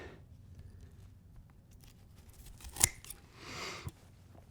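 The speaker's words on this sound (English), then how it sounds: "I'm just going to start, by cutting into it" Garden snips cut into a dahlia tuber: one sharp, close snip stands out against quiet handling noise, followed by a soft rustle.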